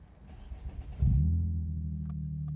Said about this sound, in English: So let's start the car and see what happened.